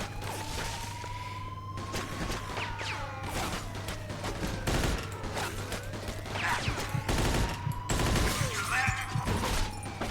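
Gunfire from the video game Mafia 2, Joe's Adventures DLC, in a supermarket level: repeated shots and bursts over a steady background hum and siren-like tones, moderately loud throughout.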